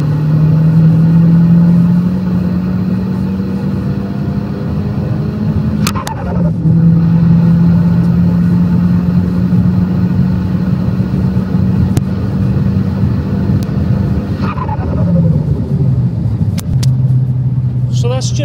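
A car engine makes full-throttle pulls up to 6,000 RPM during an air filter restriction test. The loud, close drone climbs steadily in pitch, breaks at two gear shifts, and carries on under someone talking.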